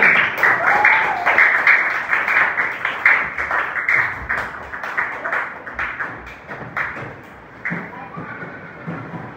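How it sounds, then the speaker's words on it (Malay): Primary school students in an Islamic education class clapping, a rhythmic patter of many hands in quick bursts with some thumps and shuffling, close in a room, thinning toward the end. "Beri tepukan pada diri sendiri."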